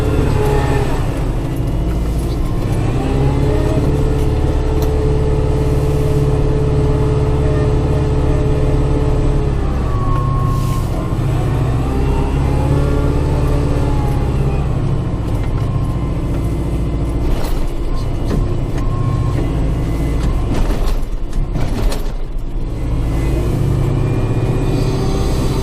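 A tractor engine runs steadily while moving snow, with a deep, continuous rumble and mid-pitched drone that rises and falls slightly as the load changes, close and loud throughout.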